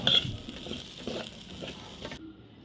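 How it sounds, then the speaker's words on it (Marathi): Moong dal roasting in ghee in a pan, a soft close rustling crackle with light stirring scrapes that stops abruptly at the end. "अशी तुपावर ही डाळ भाजून घेतली की त्या पायसमचा स्वाद खूप छान येतो"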